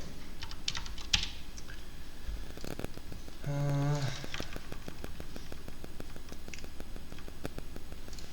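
Computer keyboard keys, including Shift and backslash, are tapped during a C programming lesson, giving sparse, fairly close clicks spread across the clip, with a short tonal beep partway through.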